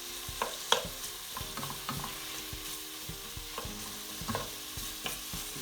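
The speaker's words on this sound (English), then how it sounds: "I'm going to gently fry these so they're nice and soft. Using a red onion for this" Red onions fry gently in a pan for a Persian stew, a soft quiet sizzle beneath intermittent spoon scrapes and light clicks against the pan, close-up, no talking.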